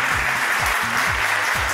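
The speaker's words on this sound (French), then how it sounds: "Un tonnerre d'applaudissements, s'il vous plaît." Studio audience of a French TV talent show applauding loudly as a contestant is welcomed, a thick, sustained burst of clapping with low musical stabs underneath, no voices.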